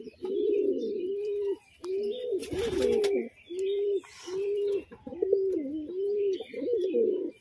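Fancy pigeons coo in a steady series of close, throaty rolling calls with short pauses between them, broken once by a brief rustling burst.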